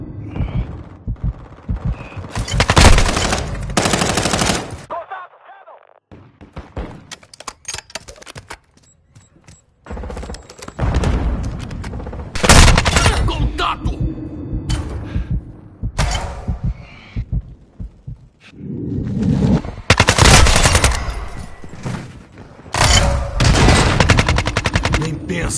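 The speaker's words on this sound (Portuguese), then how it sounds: "Tô levando tiro aqui." Loud bursts of rapid automatic gunfire in repeated volleys in Call of Duty: Modern Warfare 2 multiplayer, separated by brief quieter gaps with scattered single shots and effects.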